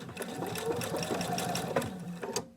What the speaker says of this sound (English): we're going to go sew to where we just started